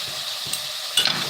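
Prawn curry with kokum and coriander being stirred and sautéed in a pan, a steady close sizzle with scraping stir strokes and a louder burst of frying near the end.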